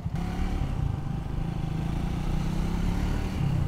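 A Triumph Speed 400 motorcycle rides through traffic, its engine giving a steady, close, continuous low drone that holds an even level the whole way, with no talk.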